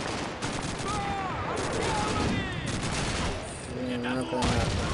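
Gunfire in the World War II shooter Call of Duty 2 during a retreat mission: bursts of rapid automatic fire with scattered single shots, fairly loud and continuous, with whistling and tonal game effects layered over the battle.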